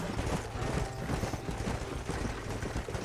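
Horse hooves clip-clop in a steady, close trotting rhythm in the Red Dead Redemption video game, a continuous run of dense hoofbeats over a muffled rumble with no talk.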